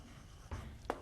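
A teacher writes on a board during a biology lecture, making two short, faint strokes in a quiet room.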